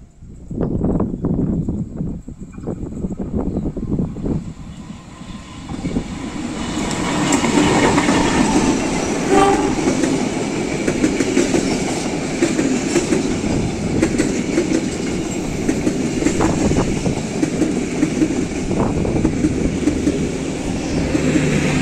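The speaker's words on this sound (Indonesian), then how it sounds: "persiapan masuk kereta api komuter lain Bandung Raya, persiapan masuk stasiun Cemekar" A commuter train rumbles into a station in Bandung, Indonesia, wheels clacking over rail joints, the loud rolling noise building after a few seconds and continuing throughout.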